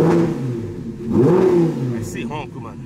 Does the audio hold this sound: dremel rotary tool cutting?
no